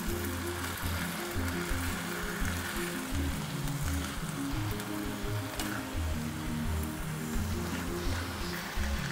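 Chicken stir fry sizzling steadily in a pan with a broad, rain-like crackle that holds throughout, loud and close, with no talking.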